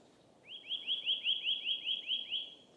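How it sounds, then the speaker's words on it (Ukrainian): A single bird repeats a bright, rapid chirping phrase of about ten even notes, clear and moderately near, over a quiet spring forest background. "бачите, як пташки співають"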